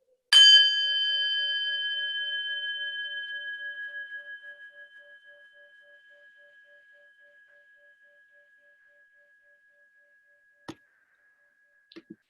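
A single bell struck once, ringing with a clear sustained tone that slowly fades over about ten seconds, followed by a few faint clicks.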